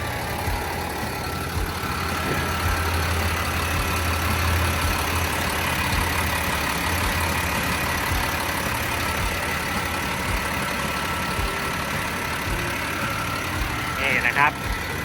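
A Mitsubishi MG500-S motor grader's diesel engine idles steadily up close, a low continuous rumble with a mechanical clatter throughout.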